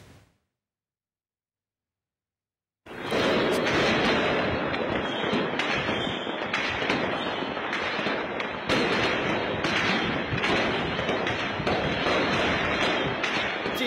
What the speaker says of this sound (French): Tire à balles réelles en plein ciel.